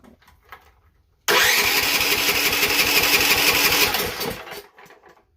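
Duromax 18 hp 440cc engine with a modified exhaust starts abruptly and runs loud and close for about three seconds, a rapid rough pulsing roar, then drops off and dies.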